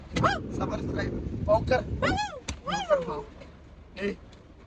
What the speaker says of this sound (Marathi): दुसरी कुत्री भाऊ करते आमच्या घरची.